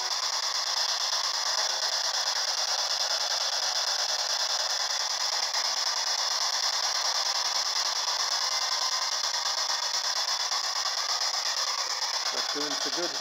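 A P-SB7 spirit box sweeps through radio stations indoors at a house, giving a steady hiss of static with faint choppy fragments throughout.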